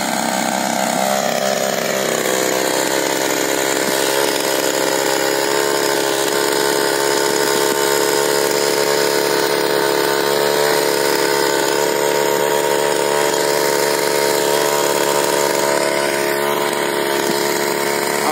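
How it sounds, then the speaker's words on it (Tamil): A paddy weeder with a 52cc two-stroke engine runs loud and close in a flooded field, a buzzing, steady high-pitched whine that rises slightly in pitch early on and then holds constant with no talking. "இது இப்போ வந்து ஐம்பத்தி ரெண்டு சிசி டூ சோக் இன்ஜின் மாட்டியிருக்கு"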